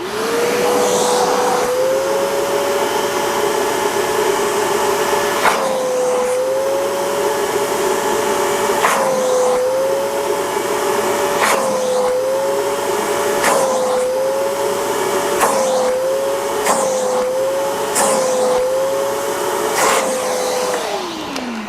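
A loud, steady whine of a RYOBI ONE+ 18V cordless SWIFTClean spot cleaner running close by, its pitch dipping and recovering repeatedly as it sucks up debris through its hose, then winding down at the end.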